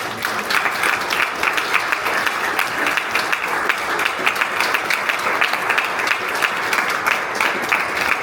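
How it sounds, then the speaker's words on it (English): Audience at a panel discussion on LGBTQI+ human rights in the OSCE applauds steadily, a dense, even roar of many hands clapping throughout with no pauses. "Please join me in giving the Ambassador and our extraordinary panel and all of you for surviving the heat a round of"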